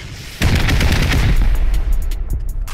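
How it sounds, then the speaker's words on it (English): Rockets fired at a bunker base in the Rust video game, a sudden loud burst of explosions with rapid crackling impacts and heavy low rumble that gradually tapers off. "we're just gonna use rockets so we don't waste any explosive"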